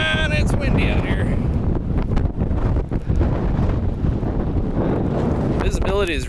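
Gusty high winds during a lakeside snowstorm, a loud, unbroken rush buffeting the microphone throughout, with a voice briefly exclaiming at the start and again near the end.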